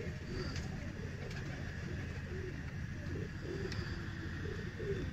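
A Kaddy breed breeder pair of pigeons coos low and steady beneath a constant background rumble, with faint distant chirps now and then.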